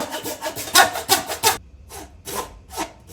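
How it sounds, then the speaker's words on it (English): Hand sawing through wood for a workbench tail vise insert, close and loud, with rapid rasping strokes in a quick rhythm, a brief pause, then several slower, softer strokes. "here I am doing a lot of hand sawing"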